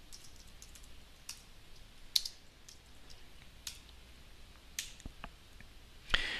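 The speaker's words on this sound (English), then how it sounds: "we'll type some text in." Sparse computer keyboard typing while entering text in Sibelius 7 music notation software, scattered close keystroke clicks with pauses between them and no talking.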